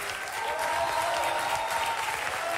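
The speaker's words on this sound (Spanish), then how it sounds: "Un aplauso a Chepo." Audience applause at a live rock concert in Guanajuato, a dense steady wash of clapping from a large crowd, loud and sustained with no voices over it.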